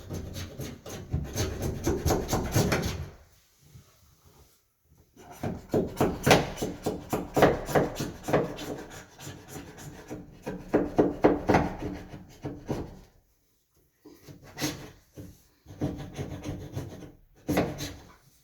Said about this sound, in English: I'm actually gonna have to use a scraper.